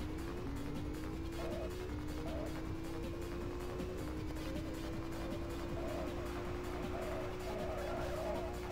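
A car slides through a curve in the racing game Autobahn Raser, engine droning steadily under a rising, sustained tire squeal that runs through most of the moment.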